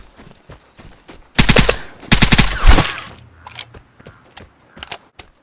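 Two loud bursts of automatic gunfire ring out in the Vigor video game, each a rapid cluster of sharp shots, set against quieter clicks and ambient game noises.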